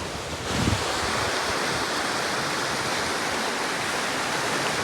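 A stream of mineral water flows in a steady, broad rush, loud and close, with a constant wash of water noise and no talk.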